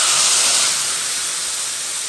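Canned prawns and bitter gourd tipped from a tin into a hot cooking pot, a loud burst of steamy hissing sizzle that slowly fades.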